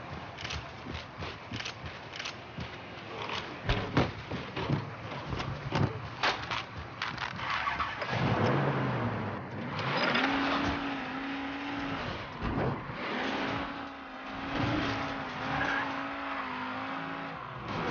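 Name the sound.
car engine warming up in video game Mafia 3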